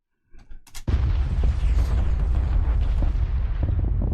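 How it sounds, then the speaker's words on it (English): Earthshaker artillery cannons from Warhammer 40k's Death Korps of Krieg fire in a barrage, a few sharp cracks giving way to a continuous heavy booming rumble, loud and sustained. "Earthshakers! For hours on end, it will rumble across the land, raining down destruction and tilling the earth with carnage."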